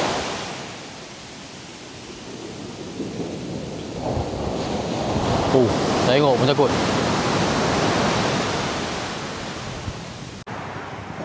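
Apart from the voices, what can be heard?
strong sea waves on the beach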